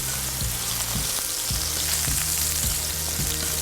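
Shrimp seasoned with smoked Spanish paprika sizzles steadily in a hot pan for paella, with several soft thumps as it is flipped and stirred, close and without talk.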